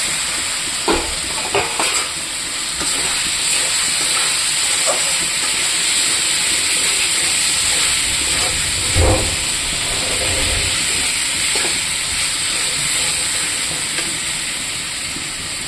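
Fried turnip and potato go into sizzling masala in a pan, giving a loud, steady hiss of frying with occasional stirring scrapes and knocks close by, and no one speaks.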